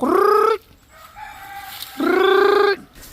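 Farm chickens during an egg harvest: two loud, close rooster crows, each about half a second, separated by a quieter stretch of soft clucking and low background noise.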